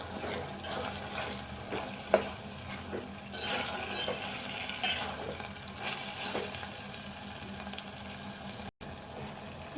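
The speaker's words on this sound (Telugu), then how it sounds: "పచ్చిమిర్చి ఇవన్నీ వేసిన, సాల్ట్ అన్నీ వేసి కొద్దిసేపు వేగనిద్దాము" Green chillies and salt fry in a pan for moong dal khichdi, making a steady, fairly loud hiss and crackle that runs throughout, broken by occasional soft stirring knocks.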